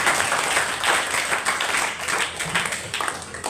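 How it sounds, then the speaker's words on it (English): A school audience at a debate competition claps for a speaker, a close, loud burst of many hands clapping in a brisk continuous patter. "Clap for him."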